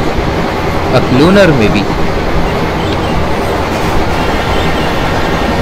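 An Indian Railways train on the Jammu Tawi–Pune Jhelum Express route moves in the Open Rails train simulator, giving a steady rolling rumble with a brief rising and falling tone, while a voice speaks over it.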